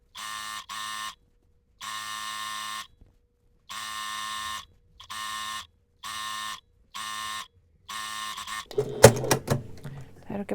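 A sewing machine stitches folded fabric in bursts, a steady whirring hum that starts and stops about eight times, followed by brief rustling and clattering as the fabric is handled.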